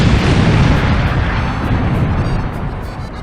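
A massive explosion sound effect meant as the Big Bang, a deep, rumbling roar that holds loud and dense throughout and tapers off slightly toward the end, with no speech.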